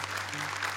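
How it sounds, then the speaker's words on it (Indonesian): Applause from a studio audience for the jury panel at a televised Quran memorization competition, a steady dense wash of clapping that runs the whole time beneath a low sustained hum. "Buat tepuk tangan untuk Dewan Juri kita."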